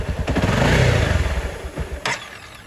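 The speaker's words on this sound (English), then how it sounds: "Now if I give the bike any throttle at all, it's going to die" A motorcycle engine at the upper flammability limit of gasoline, choked by a restrictor, runs rough and sputtering with uneven low pulses, swelling briefly before faltering and dying out near the end.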